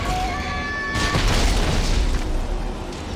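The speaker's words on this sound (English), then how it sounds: "On you, I have point blank rocket launcher." A point-blank rocket launcher explosion in a video game, a loud deep boom bursting in about a second in and rumbling on as a broad, sustained roar, with a tonal game sound fading beneath it.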